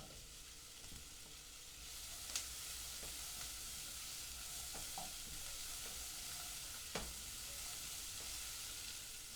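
Onions sizzle softly in a pan for onion soup, a low steady hiss broken by a few faint scrapes of stirring, quiet and without voices.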